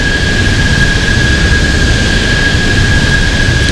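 A Harrier jump jet's engine roars steadily and loudly as the aircraft moves from hover into forward flight, a dense continuous rumble with a sustained high whine running through it, no voices.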